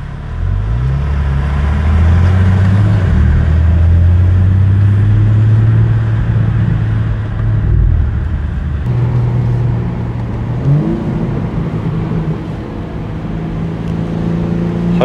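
A 2024 BMW M4 Competition Convertible engine revs and drones loudly with exhaust valves open, pitch rising and falling through paddle-shifted gear changes, with a raspy open exhaust tone and no talking.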